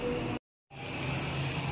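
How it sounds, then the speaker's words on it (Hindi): A kitchen blender whirs as it blends a masala mixture with a glass of water for a desi chicken curry: a steady motor hum that cuts out briefly, then starts up again and runs on. "अब मैं इसको ब्लेंड कर लूँगी।"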